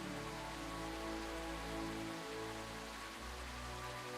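Rain effect from the game Helrift, an unbroken wash of rainfall patter at low, steady volume, alone, with a faint low drone underneath.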